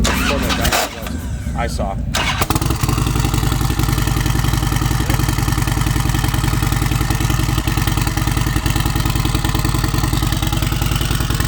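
A turbocharged Harley-Davidson Softail V-twin making about 150 rear-wheel horsepower cranks and fires after a brief spoken word, then settles into a loud, steady, close-up lumpy rumble that holds to the end.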